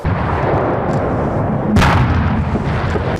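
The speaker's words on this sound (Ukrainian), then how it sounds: "Далі вхід йде артилерійський вогонь." Heavy, continuous rumble of artillery fire with overlapping booms during a Ukrainian paratrooper military exercise, a louder blast landing midway through; dense and powerful throughout.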